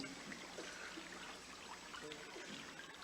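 Creek water flowing over stones, a faint continuous trickling and babbling heard on its own, quiet and steady with no talk.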